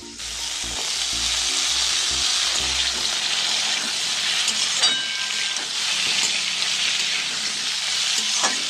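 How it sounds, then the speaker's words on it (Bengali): Potatoes fry in a pan as broccoli is added and stirred in, making a loud, steady sizzle close by with intermittent scraping and clattering from the stirring. "এই যে আলুটা ভাজা হয়ে গেছে, এরপর এর মধ্যে আমি ব্রোকলিটা দিয়ে দেবো।"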